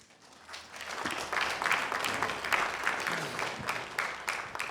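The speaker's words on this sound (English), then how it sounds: "Please let's give him another round of applause." A conference audience applauds an engineer after his talk at a Ghana Institution of Engineers manifesto event, a dense, steady patter of many hands clapping that swells in the first second and holds at moderate loudness, with no speech over it.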